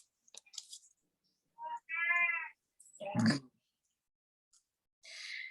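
A house cat meows a few times, clear and close, in short separate calls with quiet pauses between them. A soft bit of human voice comes in once.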